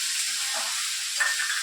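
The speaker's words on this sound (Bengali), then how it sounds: "তারপরে যে আলুগুলো কাটা হয়েছিল সেই আলুগুলো দিয়ে দেবো। এবারে ভালো করে ভাজছে।" Onions and potatoes fry in a pan, with a dense, steady high hiss of sizzling oil close by, unbroken across the whole stretch.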